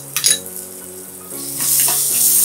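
Grated ginger sautéing in hot oil for a varagu millet pongal tempering, with a few utensil clinks as it is stirred, then a steady, close sizzle that swells and holds.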